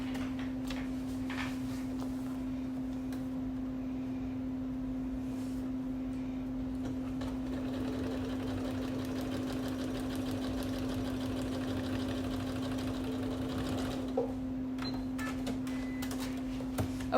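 Sewing machine stitching a quilt block, a steady close motor hum with fast rhythmic needle clatter running continuously throughout, no talking.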